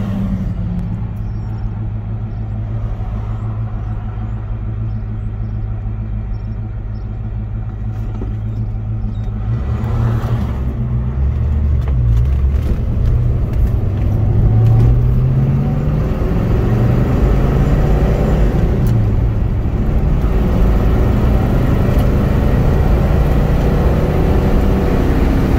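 A 1971 Pontiac GTO Judge at operating temperature on a drive, its engine a loud, close low rumble that swells and climbs as it pulls away, with brief tire and road noise.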